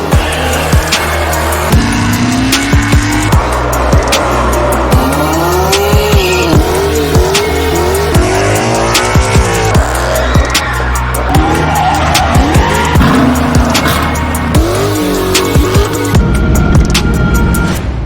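A tuned Dodge Durango RT races with its engine roaring close and loud through rising revs, as repeated tire squeals and skids cut across the din from start to finish.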